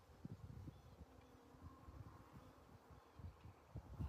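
Low, steady buzzing from many honey bees close by, with scattered rustling and bumps underneath.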